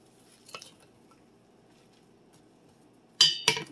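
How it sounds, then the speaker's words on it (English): Turkey stuffing casserole mixture with spices is stirred in a dish: soft scraping under low background hum, with one clink early and two sharp, louder clatters of utensil against dish near the end. "Mix it up so all the spices get blended"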